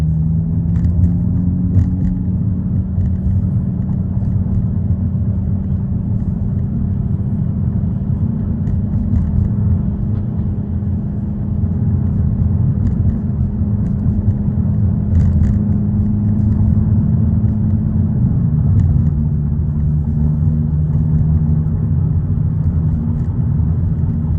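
Steady low rumble of tires and road inside a moving Hyundai Elantra N at night, a constant droning hum with little change throughout.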